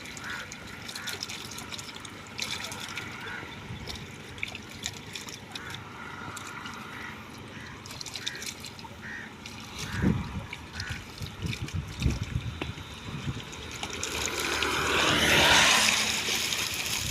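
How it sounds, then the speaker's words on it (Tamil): A freshly caught fish, taken in a cast net, thrashes in shallow water. Scattered small splashes and trickles build to a few sharper slaps, then a louder burst of churning water near the end. Faint background noise runs underneath. "மீனை பாருங்க எப்படி அடிக்குன்னு பாருங்க"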